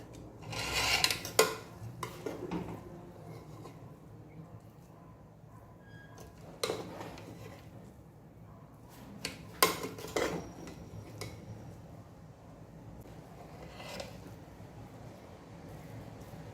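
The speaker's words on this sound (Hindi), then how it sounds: "तो करेंगे मिक्स।" A spoon scrapes and clinks against a pot as chicken dum biryani is mixed, with a few sharper metallic knocks early on and scattered softer scrapes over a quiet background, with no talking.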